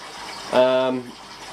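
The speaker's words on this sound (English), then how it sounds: "I'll just throw in some cold water" Cold water pours into a pot of freshly cooked crab and lobster in one brief gushing splash lasting about half a second, over a faint steady background.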